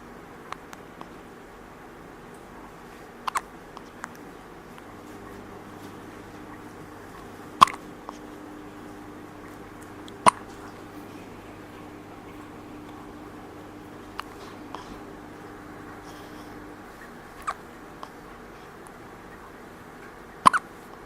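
A two-week-old baby hiccups about six times over twenty seconds, each hiccup a short, soft, sharp catch spaced a few seconds apart in a quiet indoor room.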